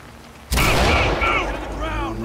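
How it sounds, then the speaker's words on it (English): A flashbang grenade goes off at a breached door during a police raid in the tactical shooter Ready or Not, one sudden loud bang after a quiet moment and then a long ringing, echoing tail, with a voice talking faintly over it. "Und dann öffnen mit Blendgranate."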